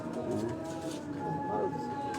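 Pigeons perched on a house rooftop coo softly and repeatedly in low, rolling phrases, mixed with steady outdoor background noise and faint distant voices.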